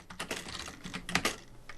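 Quick, uneven tapping on a computer keyboard, close and clear, with bursts of keystrokes and brief pauses late at night at home, with no voices.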